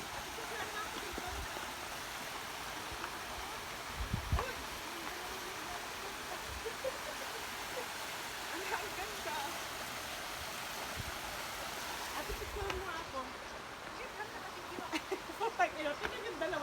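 Steady broadband rush of a waterfall heard from nearby, a constant hiss of falling water with occasional thumps and voices talking and exclaiming over it.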